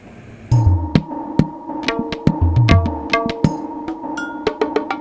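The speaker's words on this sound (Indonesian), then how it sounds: "Awalnya bunyi gendangnya seperti ini" Kendang drum pattern from a Korg Pa500 keyboard at its default setting, a loud, steady run of deep thumping strokes and sharp slaps with a sustained accompaniment tone underneath, no voices.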